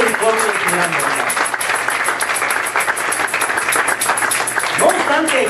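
A church congregation gives a round of applause, with dense, steady clapping filling the whole stretch. Brief spoken or sung voices rise above the clapping near the start and again near the end.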